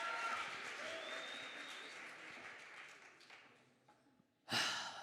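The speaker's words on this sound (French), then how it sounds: "On peut l'applaudir, Nora Hannequin, étudiante en première année de Master Moss." Audience applause at an eloquence contest final fills the room for several seconds and gradually thins, with a voice speaking over it, before a sharp, loud burst of clapping near the end.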